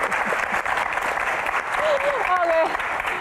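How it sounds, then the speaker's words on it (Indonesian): Audience applause at a comedy Q&A show: crowd clapping continues throughout, with a voice calling out over it near the end. "Oke, tepuk tangan."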